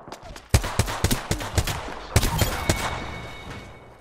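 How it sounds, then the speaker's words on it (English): Rapid gunfire from a video game arrives in sharp bursts, with about a dozen loud, close cracks spread over the first three seconds before it thins out. "Getting shot at."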